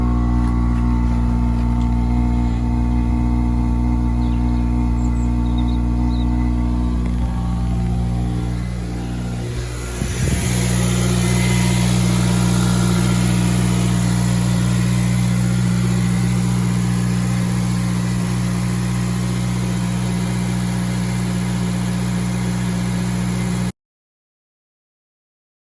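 A Honda Type R K20 engine in an FN2 warms up at a steady idle, droning low and constant, with a brief blip of revs midway before it settles back to an even hum, and nobody speaks.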